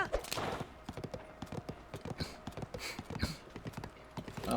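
A ridden horse's hooves clop in quick, regular beats in the video game Zelda: Tears of the Kingdom, close and prominent over a low background hum.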